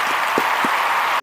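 Two podcast hosts clap their hands in a brief burst of steady applause-like patter with a few distinct slaps, ending abruptly after just over a second.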